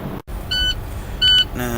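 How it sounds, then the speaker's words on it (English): A truck cab's low air pressure warning sounds as two short electronic beeps, each held about a quarter second, inside the cab over a low idling rumble. "it's beeping, showing low air pressure"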